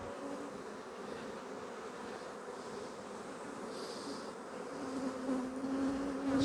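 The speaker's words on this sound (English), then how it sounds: "I get bees on here." Honey bees buzz around side-by-side hive boxes in a soft, continuous drone, faint and steady, growing a little louder and nearer toward the end.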